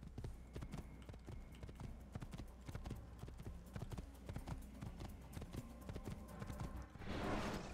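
Horse hooves clip-clop at a steady trot in the video game Assassin's Creed, a rapid, even run of hoof strikes that stays quiet and constant, with a brief whoosh near the end.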